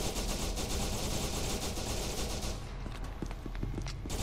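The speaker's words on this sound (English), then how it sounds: "get your guns out and start firing" Heavy sustained automatic gunfire in the SCP: Secret Lab shooter, a dense continuous barrage that thins after a few seconds into separate sharp shots, loud and close.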